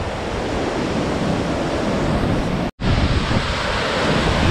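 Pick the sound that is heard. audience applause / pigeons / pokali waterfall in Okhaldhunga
pokali waterfall in Okhaldhunga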